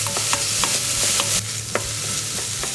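Onion softens gently over low heat in a pan, giving a soft steady sizzle punctuated by a few close scraping stirs, with no voices.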